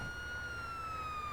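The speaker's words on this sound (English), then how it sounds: "Hit Q to hit both your lights and the siren to turn them off." A video game emergency vehicle siren wails steadily and loudly throughout, a sustained electronic tone with no talk over it.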